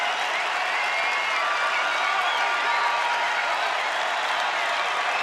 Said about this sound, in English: Now the crowd getting on their feet.